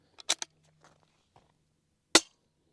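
Suppressed shots from a Ronin Arms integrally suppressed 9mm bolt-action rifle: a quick pair of muted pops, then after a quiet pause one sharp, brief crack, with faint handling noise between.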